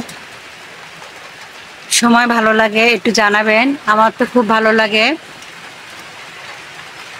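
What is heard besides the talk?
heavy rain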